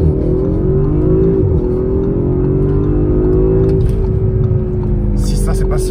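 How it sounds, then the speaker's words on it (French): An Audi RS5 accelerating hard from 0 to 100 km/h on a road trip, a loud, sustained engine roar climbing in pitch through gear changes, with crackling exhaust pops near the end. "vous entendez les pots d'échappement qui pètent derrière"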